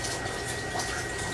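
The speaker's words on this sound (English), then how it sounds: "Wash my hands again." Running tap water splashing over hands during a brief rinse in a home kitchen while cooking buffalo chicken wings, a steady close hiss of flowing water throughout with no talk.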